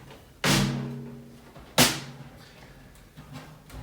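Two sharp, bright hits on a snare drum with the snares off, about a second apart, each a dry crack with a short ringing tail, then a faint softer tap near the end.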